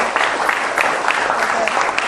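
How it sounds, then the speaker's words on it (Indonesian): A classroom of junior high students at SMPN 11 Madiun claps together in a steady, fairly loud patter of many hands lasting about two seconds, with no voices standing out. "Tepuk tangan untuk kita semua."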